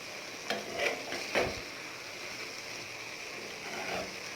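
A spoon stirs gourd and moong dal curry in a pan, giving a few soft scraping strokes over a low simmering hiss, quiet and close.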